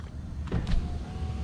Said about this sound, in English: That's the sound of the pump running, which means don't leave your goddamn ignition on or you'll kill your battery.